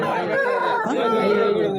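A rooster crows with a long, wavering call close by at a weekly poultry market in Galiveedu, while people chatter in the background.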